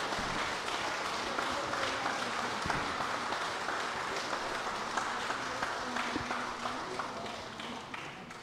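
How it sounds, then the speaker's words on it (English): Steady audience applause at a conference closing fills the space, dense clapping at an even level throughout, with a few sharper knocks and faint murmuring underneath. "Let us give them a round of applause."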